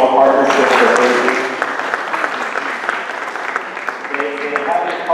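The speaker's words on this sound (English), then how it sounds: "give Susan a huge round of applause" A town hall audience gives a loud, full round of applause, continuous dense clapping with some voices rising through it near the end.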